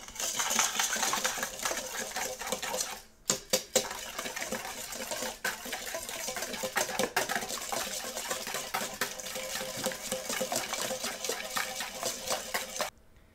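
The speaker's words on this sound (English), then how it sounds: "add the sugar and whisk until well combined" Sugar is whisked into madeleine batter in a bowl, a steady close scraping and rattling whisk that runs continuously, with one brief pause near the start and no talking.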